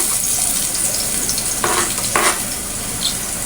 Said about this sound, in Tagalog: Lalagay na natin yung ating bawang guys.